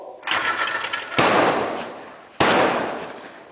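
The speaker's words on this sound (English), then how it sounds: "Got one. Good shot, Anton!" Three sharp shotgun blasts at skeet clay targets, each ringing out and decaying outdoors, spaced about a second apart and loud against a quiet background.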